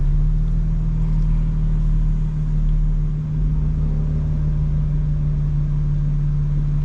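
A 2025 BMW M4 Competition cruises through town traffic with a steady low engine drone and road rumble, continuous and fairly loud from inside the cabin.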